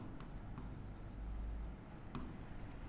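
Chalk or marker writing on a board while a maths problem is worked out: soft scratching strokes with a few brief taps, close and quiet over a steady low room hum, with no talking.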